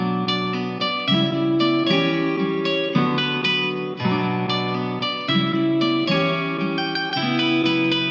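A vintage-style guitar melody processed through RC20, Guitar Rig, a distortion pedal and a parametric EQ, lowered in volume: warm, wobbly plucked chords with chorus and reverb, repeating in steady phrases with no voices.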